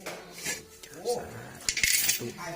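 Coins drop into a clay alms bowl with a few light, clinking metallic taps among soft background noise.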